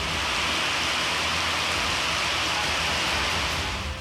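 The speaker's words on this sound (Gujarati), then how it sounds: "ભારે વરસાદ પડ્યો છે" Heavy monsoon rain in north Gujarat pours down in a dense, continuous hiss, steady and loud throughout with no voices.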